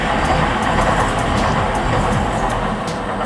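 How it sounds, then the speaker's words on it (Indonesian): A DLR light-rail train runs on tracks right beside a student residence room in London, producing a continuous close rumble and rolling hum that fills the whole stretch without speech. "kamar aku tuh deket banget sama rel dari kereta DLR yang suaranya bisa kalian dengar"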